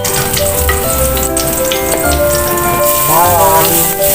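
Squash with sardines sautés in a pan, a loud, steady sizzling crackle throughout, with tonal music playing over it.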